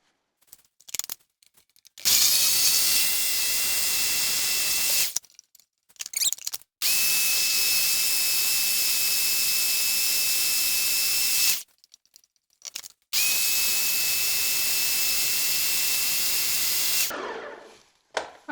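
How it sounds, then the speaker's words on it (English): Garlic being blended in a food processor for raw pizza crackers, three long loud whirring bursts of motor and chopping noise separated by short pauses with faint clatter. "we're gonna whiz this around first, get it combined"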